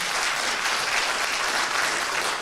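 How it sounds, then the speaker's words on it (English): Steady, dense audience applause at a round-table discussion on living with MS, a continuous wash of many hands clapping at even loudness throughout with no voices on top. "Save your applause."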